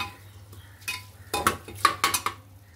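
Washed rice and lightly steamed vegetables for khichdi are stirred in a pot, with several distinct spoon scrapes and clatters against the metal over a faint low hum, no talk.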